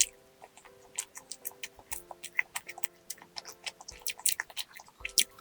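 Close, moist chewing of soft bread, with rhythmic smacking and small clicking bites that repeat steadily over faint background music tones.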